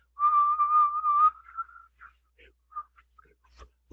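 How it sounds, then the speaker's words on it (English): Eerie whistling in an animated horror story, a clear sustained whistled tune lasting about a second and a half, then trailing off into scattered faint breathy notes and near silence. "Oh, the damn whistling."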